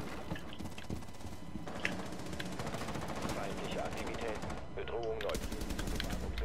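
Rapid gunfire from a Rainbow Six Siege match, bursts of automatic shots with impacts and clattering mechanisms running steadily under overlapping voices chatting throughout.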